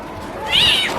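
A man imitates a cat with a single drawn-out, whiny meow, loud and close, convincing enough to pass for a real cat in a street setting in Stone Town, Zanzibar.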